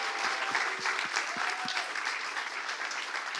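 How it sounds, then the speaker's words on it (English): Conference audience at a startup demo day gives a round of applause for the presenters, a steady wash of many clapping hands at moderate distance, continuous and even. "one more big round of applause for all our presenters today"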